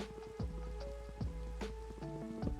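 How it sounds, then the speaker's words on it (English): Rain in the video game Minecraft falls as a soft, even patter, heard alone and fairly quiet, with scattered louder drop-like plinks and tonal clicks repeating every second or so throughout. "that's rain."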